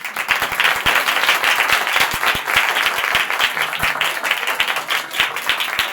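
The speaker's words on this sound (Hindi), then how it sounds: "बात अच्छी लगी है तो तालियां बजाएं" A Pentecostal church congregation applauds during a sermon, a dense, steady wash of many hands clapping at once that fills the room for several seconds.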